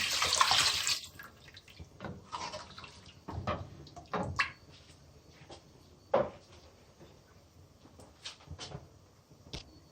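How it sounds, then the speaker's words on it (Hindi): Water pours into a cooking pot while making fish curry, a gushing broadband rush at the start followed by scattered splashes, drips and soft clanks of kitchenware, fairly close and moderately loud with no talk. "पानी डालते हैं। ये मेरे पास आधा लीटर पानी है।"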